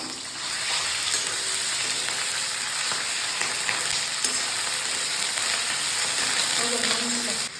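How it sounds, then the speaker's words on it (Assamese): Broiler chicken meat fries with onions in a wok, making a loud, continuous close sizzle that holds steady throughout, with occasional faint scraping. "এয়া কেৰাহীত মাংস দিয়া হৈছে"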